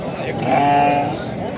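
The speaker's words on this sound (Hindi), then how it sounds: "बकरा चेक करो जी, देसी बीतल बकरा।" A desi Beetal goat at a busy livestock market gives one drawn-out bleat, loud and close, over a steady murmur of crowd voices and people talking nearby.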